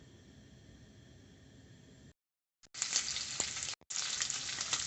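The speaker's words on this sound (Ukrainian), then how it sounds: "Сало наше шкварчить, чи жариться." Pork fat sizzles and crackles loudly in a hot frying pan, steady hissing noise broken by a short silence, close and without talk.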